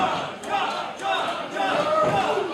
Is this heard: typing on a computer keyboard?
no